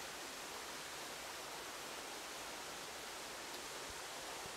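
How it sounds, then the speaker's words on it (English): A steady, broad rushing roar of a waterfall in Saitama, Japan, constant and unbroken throughout, with no other sounds standing out. "So yeah, waterfall."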